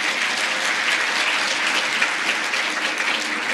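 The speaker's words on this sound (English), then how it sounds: "not even 2 weeks old and she gets some applause, hey?" An audience at an annual general meeting claps in dense, steady applause that fills the whole room and lasts throughout.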